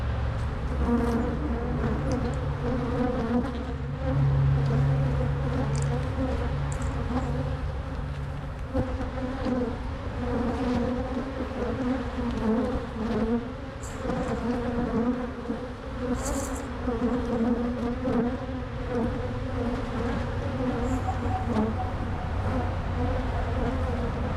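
Honey bees buzzing at an opened hive during a first hive check, a dense, steady droning hum that fills the whole stretch, loud and close with no break.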